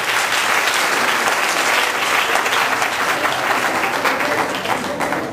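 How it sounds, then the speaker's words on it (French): Loud, sustained applause from a school concert audience in Togo, a dense wash of many hands clapping steadily without pause, with a few voices faintly in the mix. "On l'acclame également très fort."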